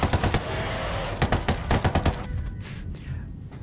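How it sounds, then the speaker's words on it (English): Rapid bursts of automatic gunfire in Ghost Recon Wildlands, loud and close, with repeated volleys crackling in quick rhythm before the shooting stops and a quieter stretch follows. "I was shooting him!"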